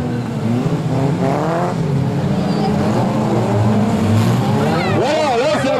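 Stock cars race around a track at a 2012 event, a loud continuous engine roar that rises and falls as cars pass, with a commentator's voice over a loudspeaker above the noise.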